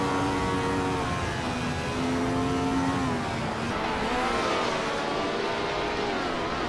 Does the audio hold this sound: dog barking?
no